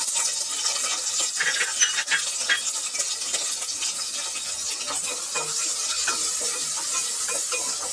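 Onions fry in oil for beef gravy, making a steady, dense hiss of sizzling with light stirring scrapes throughout, close and continuous.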